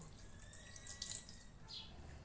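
Water trickling and splashing steadily over a tyre being checked for a puncture, a soft continuous running-water sound with brief louder gushes, close and alone with no talk.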